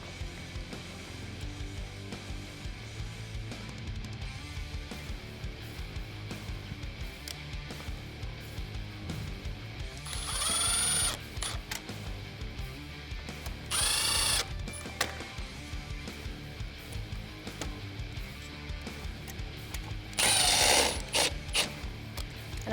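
A hand ratchet drives the factory screws back in while a Jeep Wrangler JK headlight is being reinstalled. It gives a faint steady mechanical clicking, with three louder bursts of rapid ratcheting clicks close by.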